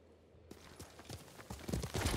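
Hooves of the horse Sora in Ghost of Tsushima, a quiet clip-clop of hoofbeats that starts after a half-second of near silence and quickens into a faster gait, growing louder toward the end.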